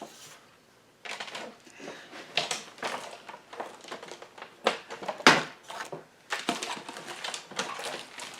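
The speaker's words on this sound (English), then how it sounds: "I'm just cutting a piece to fit here." A piece of paper being cut to size for a handmade envelope file folder, heard as a close series of crisp, irregular snipping and rustling bursts with short pauses and no talking.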